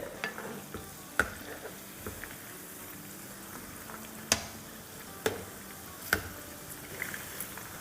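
Battered chicken pieces fry in a pan with a faint, steady sizzle, broken by a few sharp scrapes and clacks as they are stirred and turned over, with no talking.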